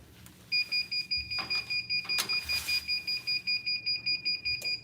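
A T-shirt heat press timer beeps in a steady, rapid series of short electronic pulses, about three per second, moderately loud over faint room background, with no talking.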